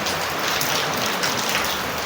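Heavy rain pours steadily outdoors as a dense, loud, unbroken hiss of drops with no pauses and no voices.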